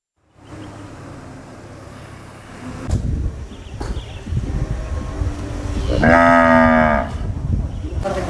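Cattle low loudly and close by during an Eid al-Adha sacrifice at an Islamic boarding school, with one long drawn-out moo standing out over a continuous outdoor background of rumbling and bustle.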